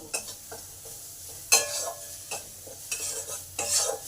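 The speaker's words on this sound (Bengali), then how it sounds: "সোয়াবিনটাকেও এর সঙ্গে ভালো করে ভেজে নেব" Boiled minced soybean frying with spices in a pan, giving a steady soft sizzle broken by several sharp scrapes and clinks of a spatula stirring against the metal.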